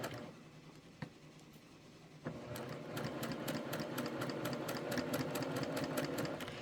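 A sewing machine stitching a quilt starts up after a couple of quiet seconds and a single click, then runs in a fast, steady mechanical rattle of rapid needle strokes, close and moderately loud.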